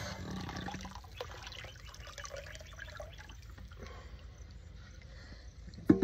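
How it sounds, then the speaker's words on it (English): Liquid fish amino acid pours and splashes into a 1000-litre water tank, a steady trickling gurgle with drips and a sharp splash at the end. "I filled the tank with 1000 liters of water and I'm adding the amino acid right now"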